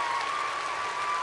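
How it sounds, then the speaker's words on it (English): Audience applause at a marching-arts podcast gathering, steady clapping from a crowd that holds at a loud level throughout the brief stretch with no voices over it. "One more applause."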